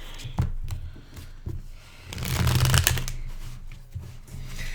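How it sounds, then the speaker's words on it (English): Playing cards are shuffled close up, with a few riffles and taps building to a louder, rapid flurry in the middle before settling. "Shuffle away a little bit here"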